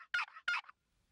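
Two soft hen turkey yelps from a hand-operated turkey call imitating a hen, each a quick raspy two-note burst, close and clear with silence after.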